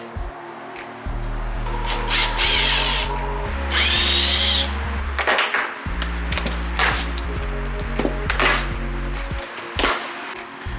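A power drill backs screws out of a solid wooden shipping crate holding a widebody kit for a Dodge Charger, in several loud bursts of whirring lasting a second or two each, separated by short pauses and some clatter.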